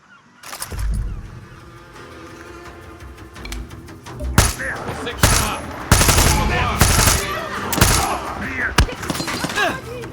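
Gunfire in the video game Far Cry 6 comes as repeated sharp shots and rattling bursts over a steady background din, with voices talking in between.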